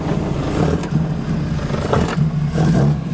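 A 1967 Mini Cooper S with a Weber 45 DCOE carburettor setup and a GT6 or 7 head runs steadily, a close mid-pitched engine drone with light blips of throttle and no talk.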